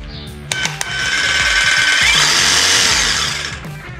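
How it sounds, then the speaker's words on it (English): A Ryobi jigsaw fitted with a Diablo blade cuts through metal in a close, loud, steady buzzing rasp lasting about three seconds, preceded by a few sharp clicks and tapering at the end; no speech. "Ryobi jigsaw at this point. I do have a Diablo blade in it that allows me to cut through metal."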